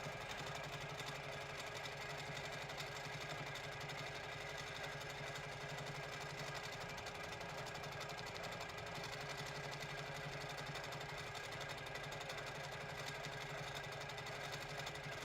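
Faint, continuous sewing machine hum from free-motion quilting a cluster of pebble shapes, droning steadily and unbroken with no talk over it.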